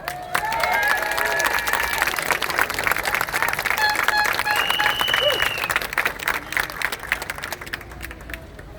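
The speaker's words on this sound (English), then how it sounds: "Give yourselves a round of applause." Outdoor crowd applause at a mail centre staff protest march in Cork, with sustained clapping and a few cheers and whistles rising over a busy street background for several seconds before fading slightly.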